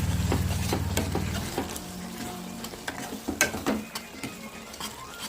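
A spoon scraping and stirring through tomato curry with chilli powder and ginger-garlic paste in a pan, rhythmic clinks and scrapes over a soft sizzle, close up.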